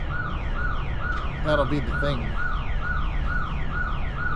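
An outdoor alarm going off nearby, a loud repeating whooping tone that cycles rapidly and steadily, while someone talks over it close to the microphone.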